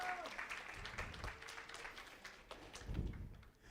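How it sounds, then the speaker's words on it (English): Applause from a health forum audience, fairly quiet and distant, with scattered claps and a low thump near the end. "Give him a round of applause."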